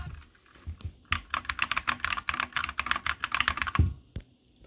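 Rapid clicky keystrokes from a newly built mechanical keyboard, close and crisp, in a fast burst that stops abruptly near the end, with one or two stray clicks after.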